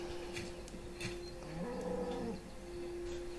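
A cow moos once in the RuneScape video game, a low, drawn-out call at moderate level over a faint steady game hum.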